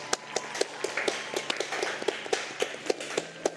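A group of people claps in a quick, steady rhythm, each sharp clap ringing out clearly in a room with no one speaking.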